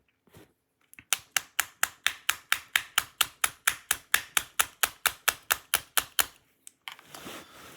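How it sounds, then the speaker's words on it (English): Pin being tapped into a GHK SIG 553 airsoft gas-blowback burst module: a steady run of about twenty sharp, close metallic taps at an even rhythm, followed by brief handling rustle. "I'll try and tap that in."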